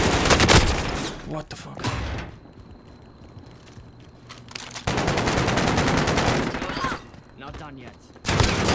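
Loud automatic gunfire from the game Warzone comes in long sustained bursts, separated by quieter gaps. A voice speaks between the volleys.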